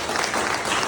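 Brief burst of audience applause at a business seminar, dense clapping from a crowd that fills the whole moment without speech.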